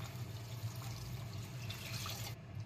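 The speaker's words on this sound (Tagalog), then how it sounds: "Lagyan natin ng tubig." Water is poured into a cooking pan of sardines for odong, a steady close rushing splash that runs continuously and then cuts off near the end.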